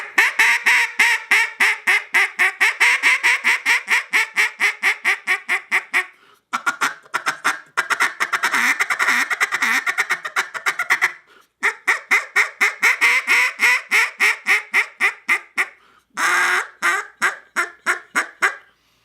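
A JJ Lares A5 duck call is blown in long runs of rapid, evenly spaced quacks, broken by short pauses and ending in a few bursts, loud and close with no voices.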